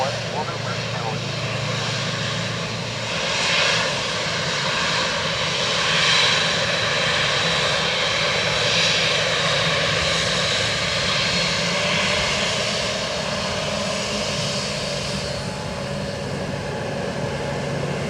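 Aircraft engine roar at Dublin Airport as a Lufthansa A321neo arrives, a steady broadband drone that swells slightly and holds for the whole stretch, with faint radio chatter underneath.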